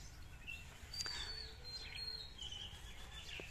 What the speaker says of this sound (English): I hope you can hear the birds chirping.